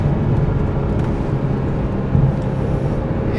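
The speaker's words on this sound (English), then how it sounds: "They say the sound is a little different than most Ferraris because it has the 5 valves" A 1999 Ferrari 355 Berlinetta F1 with its mid-mounted five-valve V8 and stock exhaust gives a steady, dense engine drone that holds an even loudness throughout, with no talking.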